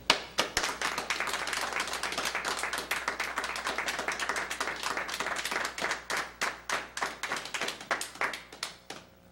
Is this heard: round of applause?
yes